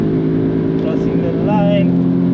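An Audi S3 8V launches down a drag strip, its engine droning steadily with a tonal whine that shifts pitch at a gear change, loud and close throughout while someone talks over it.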